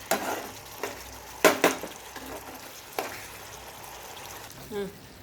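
A spoon stirs onion curry with coriander powder in a pan over a soft sizzle, with a few sharp scraping clinks against the metal and a brief voice near the end.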